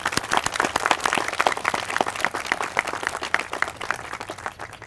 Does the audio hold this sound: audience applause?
yes